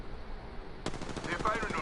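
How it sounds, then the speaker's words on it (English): Gunfire aimed at the player in Apex Legends breaks out suddenly after a quiet moment, a rapid burst of automatic shots with sharp, close cracks. "They're firing on me."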